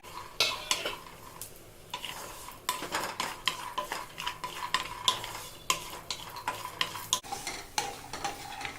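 Cashews, raisins and other dry fruits roast in a pan while a metal spoon stirs them, giving repeated scraping clinks and scrapes in an irregular rhythm over a soft sizzle, close and clear, with no speech.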